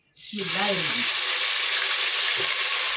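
Ginger and garlic hit hot oil and erupt into a loud, steady sizzle that continues without a break. A voice is heard briefly at the start.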